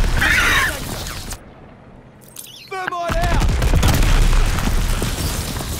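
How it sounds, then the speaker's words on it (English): Molotov cocktail blast and gunfire in Call of Duty Vanguard, with loud dense bursts and booms before a brief lull, a few clanking mechanical clicks, then sustained heavy crackling fire and shots. "Molotov."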